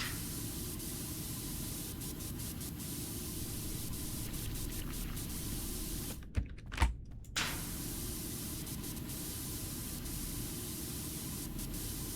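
Pressure washer spraying in PowerWash Simulator, a loud, continuous hissing jet that cuts out briefly with a few clicks around the middle, then resumes steadily.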